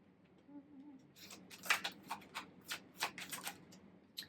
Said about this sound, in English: Shuffle a little bit real quick.